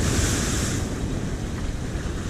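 Strong waves crash and surge continuously on a rough sea, a loud, dense roar of surf mixed with wind buffeting the microphone, with no talk.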